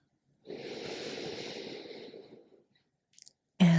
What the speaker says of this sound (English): Now let's take one more deep inhale together